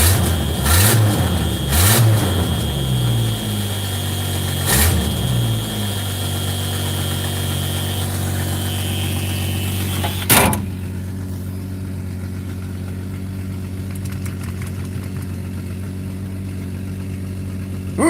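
A 1970s game car with a three-speed manual transmission revs hard a few times, then settles into a steady, close idle until the end, with no talk.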